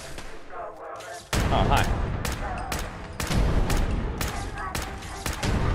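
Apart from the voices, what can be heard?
gunfire in the video game Fallout 4 Nuka World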